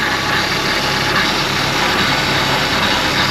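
A 2002 Kia Rio engine runs steadily during a charging-system test, a close, loud, even idle with constant broadband rumble and no voices.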